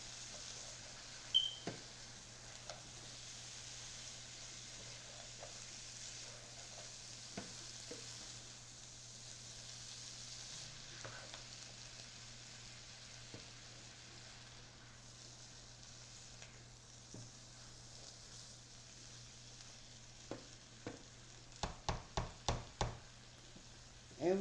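Corn maque choux fries gently in a pan, a faint steady sizzle broken by scattered soft scrapes of stirring, ending in a quick run of louder knocks of the utensil against the pan.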